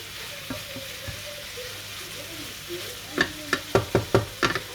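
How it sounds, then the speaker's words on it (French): Fish cooking in a pan with peppers and garlic gives a soft sizzle, then a quick run of loud spoon scrapes and knocks near the end as it gets stirred, close up. "Vous laissez cuire avec les poivrons."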